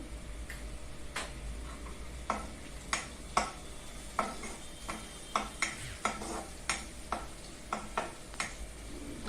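Flour dough (ukad) stirred in a pan, rhythmic scraping strokes of the spoon against the pan roughly every half second over a low sizzle, close and steady without speech.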